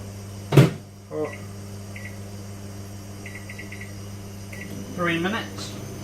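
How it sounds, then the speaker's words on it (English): A low steady hum of a microwave oven heating baked beans, with a few short beeps and brief bursts of speech over it. "Put it in the microwave."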